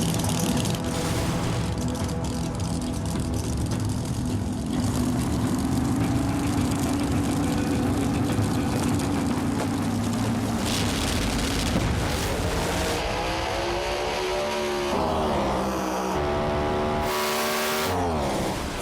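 Street-outlaw drag race cars, one of them a twin-turbo Mustang, roar continuously at full volume as the engines rev and hold, then climb through a sequence of rapid shifts near the end.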